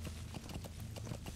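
Horse hooves clip-clopping in Metal Gear Solid V: The Phantom Pain, a steady run of quick, evenly spaced hoof strikes over a constant low rumble of game ambience, with no talk.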